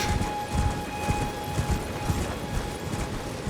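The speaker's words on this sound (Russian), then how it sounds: "наша лошадка мчит нас вперед" Horse galloping in the video game Elden Ring, on the Weeping Peninsula: steady, rhythmic hoofbeats thud close by over a constant low ambient hum, alone and without voices.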